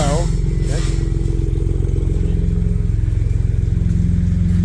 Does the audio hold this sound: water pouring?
no